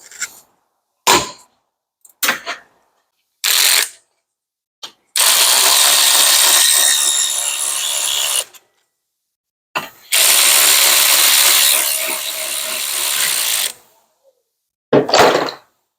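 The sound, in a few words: electric ratchet loosening BMW Z3 brake bolts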